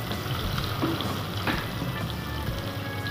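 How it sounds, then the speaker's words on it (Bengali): Cut potato and eggplant fry together over medium flame in a pan, giving a steady close sizzle with light stirring scrapes. "এবার ফ্লেমটা মিডিয়ামে রেখে আলু বেগুন একসাথে আমি ভালো করে ভেজে নেব।"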